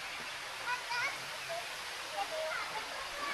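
The steady rush of Bua Tong Sticky Waterfall near Chiang Mai, Thailand, flows continuously close by, with a few faint bird chirps above it and no talk.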